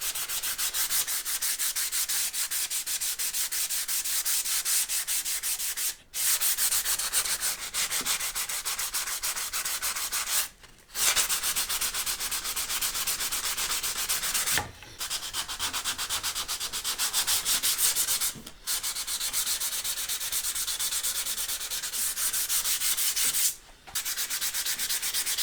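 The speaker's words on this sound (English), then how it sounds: "going to use some 240 to start with, and just start again giving this a little bit of a sand." Hand sanding a Stratocaster guitar neck with 240 grit sandpaper: a long steady close rasp of back-and-forth strokes broken by a few brief pauses, loud and continuous with no voices.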